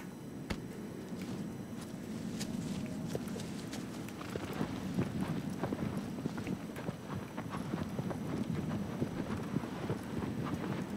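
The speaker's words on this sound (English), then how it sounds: "All right, back on the horse." A horse gallops at length in Shadow of the Colossus, rapid rhythmic hoofbeats pounding steadily over a low rumbling ambience, moderately loud and with no voices.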